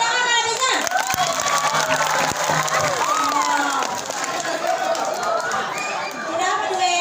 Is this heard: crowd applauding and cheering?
yes